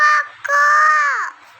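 A small boy imitates a chicken's call with two loud, strained vocal cries: a short one and then a longer, sustained one that falls slightly at the end, with nothing else around them.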